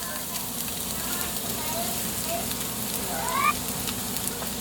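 Garlic and onion sizzle steadily in hot oil with ginger in a home kitchen pan, making a dense, continuous frying hiss. A few faint clinks of utensils ring out over the sizzle.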